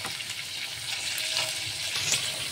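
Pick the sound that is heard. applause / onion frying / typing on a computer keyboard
onion frying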